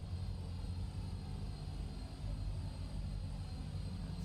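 Steady low engine rumble and whine of an airplane on the runway, faint and continuous with no voices.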